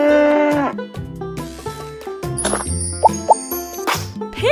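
A short, cartoonish cow moo from a children's educational game, set among bright game music, plopping effects and chiming dings, close and clear.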